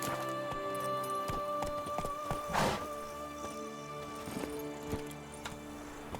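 Horses clip-clopping in The Witcher 3 video game: a steady rhythmic series of hoof clops at moderate distance, set against sustained tonal background music, with a brief louder rustling burst midway.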